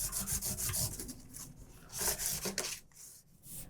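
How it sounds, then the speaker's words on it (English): 600 grit abrasive polishes the frets of a 1975 Guild F50R guitar with steady back-and-forth rubbing strokes, a close, dry rasping that rises and falls in quick repeated passes. "it really just starts to polish the frets and smooths them"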